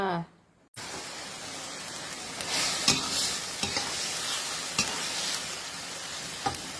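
Washed lotus stems go into a hot pan and sizzle steadily while being stir-fried, with occasional sharp clinks and scrapes of the utensil against the pan.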